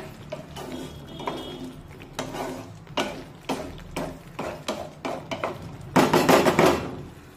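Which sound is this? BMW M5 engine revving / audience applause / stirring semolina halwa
stirring semolina halwa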